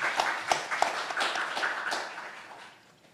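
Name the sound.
audience applause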